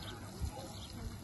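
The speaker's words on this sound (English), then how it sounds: "We're doing hiker showers with the hose." Water sprays from a garden hose shower set to a shower pattern, a soft hissing spatter close by with voices around it.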